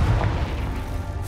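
A Confringo blasting spell explodes in a Harry Potter video game, heard as a dense, steady low rumble that holds at one level for a moment, with no voices.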